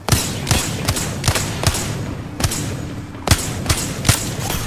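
Gunfire in the video game Apex Legends, a series of sharp, punchy shots fired in quick bursts at an uneven rhythm, loud and close, with no talking between them.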